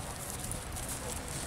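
A bay horse walks on a paved town square, hooves clopping in a steady, close rhythm against a constant background hiss.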